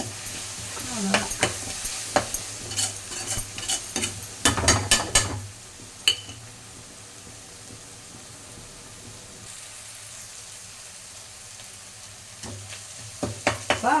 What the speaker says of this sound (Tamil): இப்போ வெங்காயம் நல்லா வதங்குது.